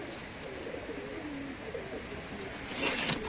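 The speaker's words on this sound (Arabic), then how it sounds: "الحمام ده كله طار ظهر يا رجاله" Loft pigeons in Tanta, Egypt, take off and coo: low cooing murmurs run softly through, and a brief rustling flutter of wings rises near the end.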